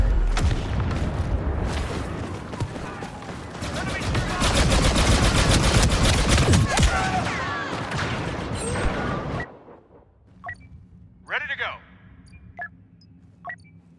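Turret gunfire in Star Wars Battlefront 2 multiplayer on Tatooine pounds loud and rapid for about nine seconds, layered with blasts and battle noise, then cuts out to a quieter stretch of scattered beeps and a voice.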